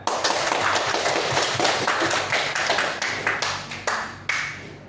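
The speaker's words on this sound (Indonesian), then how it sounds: "Beri aplaus untuk temannya" A classroom of students bursts into loud, sustained applause for a classmate, a dense patter of many hands that tapers into a few scattered claps.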